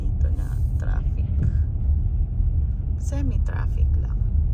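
Steady low rumble of city road traffic in Calgary, cars passing continuously at moderate distance, with faint voices underneath and a brief higher engine whine near the end.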